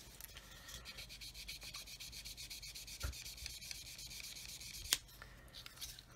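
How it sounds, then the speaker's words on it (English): A Flory polishing stick rubs back and forth over a small plastic part of a 1/32 Airfix Humber scale model, a quiet, close, dry scratchy friction sound with a couple of sharper scrapes. "I'm using this Flory polishing stick"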